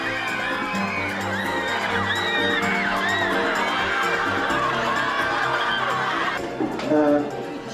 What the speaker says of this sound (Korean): 유명 스타들을 반기듯 한 명 한 명을 환호와 박수로 맞아주는 한국 학생들.